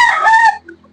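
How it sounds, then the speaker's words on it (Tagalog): A single loud, close rooster crow from a fighting cock on a backyard farm, a strained tonal call lasting about half a second before cutting off, followed by faint quieter clucks. "Dami na manok dito, mga panabong."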